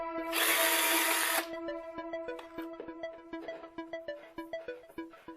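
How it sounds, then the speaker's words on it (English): Power drill boring a pilot hole into a wall for plasterboard fixings, one loud whining burst of about a second, then the motor winds down through a series of rhythmic ticking clicks. "I'm going to drill a pilot hole and fix the plasterboard fixings to the wall."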